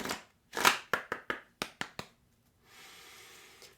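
A deck of cards is shuffled up close: a riffle burst followed by a quick series of sharp slaps and taps, then a soft rustle, with no talking.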